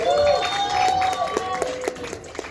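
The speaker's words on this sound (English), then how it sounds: "Make some noise for Sarah Lynn" Comedy show crowd applauding and cheering a female stand-up comedian, clapping loud at first and then thinning into scattered claps, with voices and whoops mixed in.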